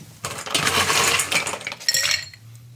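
Ice cubes clatter and clink into a glass for a Red Manhattan cocktail, a dense rattling burst lasting about two seconds before settling, close and fairly loud.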